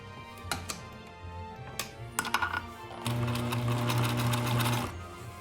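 A sewing machine stitches a fabric gift bag, first in short clicking bursts and then in a steady loud whir of running stitches, close up and with no talk.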